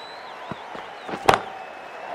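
A cricket bat strikes the ball for a six in the Cricket 24 video game during an India vs Sri Lanka match: a single sharp, loud crack stands out over steady crowd ambience, with a couple of softer thuds just before it.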